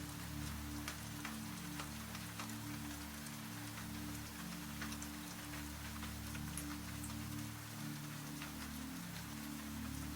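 Steady rain patters on a surface, a soft continuous hiss sprinkled with scattered drops, heard alone over a low hum.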